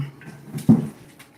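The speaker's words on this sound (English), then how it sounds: "That scared me when he barked like that." A single sharp, loud dog bark cuts in close by after a moment of low rustling, then fades into quiet background noise.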